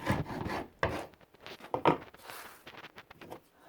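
Chisel scraping dried glue off a laminated plywood bench top: repeated rasping strokes in short bursts, close and fairly loud, with brief pauses between passes.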